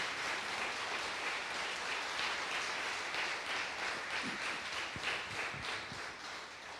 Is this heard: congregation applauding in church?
yes